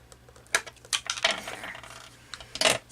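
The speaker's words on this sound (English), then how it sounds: "I'm going to go in here and just kind of give this a nice snip" Scissors snipping paper on a 3-D Halloween scene craft, several sharp close clicks and crisp cuts spread over a few seconds, fairly loud with no talking.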